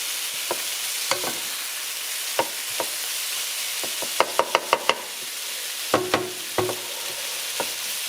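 Chicken and sweet potato red curry cooking in a pot under a soft steady hiss, broken by scattered sharp knocks and quick clusters of spoon taps against the pot, with no voices.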